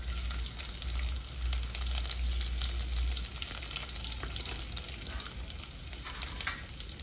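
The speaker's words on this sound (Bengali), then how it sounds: "ভালো করে গোটা জিরে ফুটে যাবে।" Whole cumin seeds frying in hot oil, a dense steady crackle and sizzle with small popping bursts, close and unbroken, with a low hum underneath and no talk.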